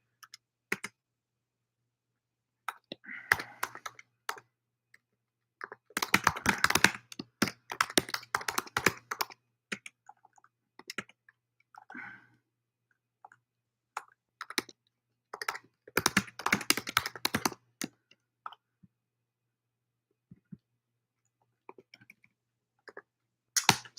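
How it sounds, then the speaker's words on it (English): Fast bursts of clicky keystrokes on a computer keyboard come in uneven clusters with short pauses, up close and fairly quiet, with no talking. "I'll type that in this chat here."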